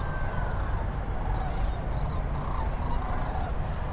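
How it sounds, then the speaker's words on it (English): Geese flying overhead give several distant honks in a loose series, rising over a steady, loud outdoor rumble. "you should see all the geese flying overhead."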